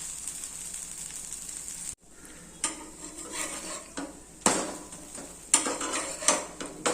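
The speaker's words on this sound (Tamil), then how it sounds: "நம்ம பிரட்டி திருப்பி போட்டுக்கலாம்" Millet paniyaram being turned in a paniyaram pan, with a series of sharp metal clicks and scrapes from a utensil against the pan over a faint background sizzle.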